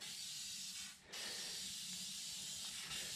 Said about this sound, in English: Spray the gearbox down,